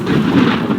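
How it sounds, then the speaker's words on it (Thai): A lightning strike in the god-simulation game WorldBox brings a loud, deep rumble of thunder that fills the whole short moment with a steady, heavy roar and no voices. "ฟ้าผ่านะ"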